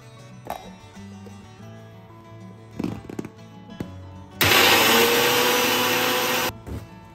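A mixer grinder whirs loudly for about two seconds, grinding roasted coconut for inji curry, in a dense steady roar that starts and stops abruptly after some quiet kitchen clinks.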